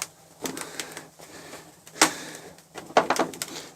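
Sound deadening on the floor of a Mazda RX-8 cracks and snaps as it contracts under dry ice: scattered sharp clicks and pops, a few louder crackles, close by, with no voices.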